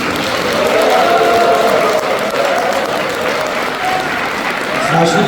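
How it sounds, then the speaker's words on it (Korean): Loud, sustained applause from a lecture audience fills the room, dense steady clapping carrying on throughout with a faint murmur of the crowd beneath it. "큰 뜨거운 박수 한번 해주시죠."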